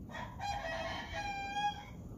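A rooster crows in the afternoon, a drawn-out harmonic call rising and holding for about two seconds, fairly close and loud over a steady low outdoor rumble.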